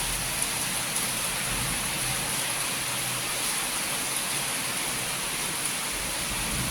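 Heavy rain falls steadily outside a southeast-facing balcony of a residential building, a dense, even hiss of drops with no letup.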